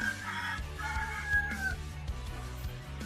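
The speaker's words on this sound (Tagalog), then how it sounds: "Daming manok dito." In a village near Kalibo, Philippines, a rooster crows nearby while several chickens cluck around it, steady poultry chatter over a low hum of background noise.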